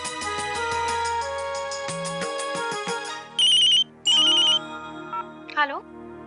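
A phone ringtone plays a repeating electronic melody for several seconds, loud and close, followed by a couple of short bright beeps and a brief voice.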